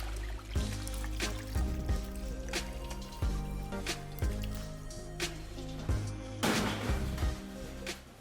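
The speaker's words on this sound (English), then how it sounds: "Needs to be washed with cold water." Five kilograms of hard peaches are washed by hand in cold water in a large pot, giving steady sloshing and splashing with repeated soft knocks and trickles throughout.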